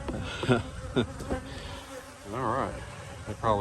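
Bees buzzing inside a beehive at an apiary, a steady close hum with wavering pitch that rises and falls, while someone speaks briefly over it.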